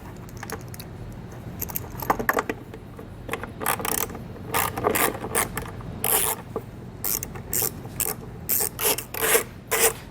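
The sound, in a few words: ratchet loosening two 7mm taillight bolts on 2009 GMC Acadia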